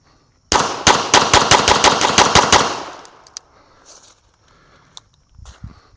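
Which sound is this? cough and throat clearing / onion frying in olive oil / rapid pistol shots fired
rapid pistol shots fired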